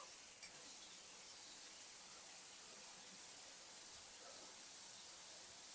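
Water sprays from a cheap eBay shower head in both rain and atomized modes, giving a steady, soft hiss that stays even throughout with no voices.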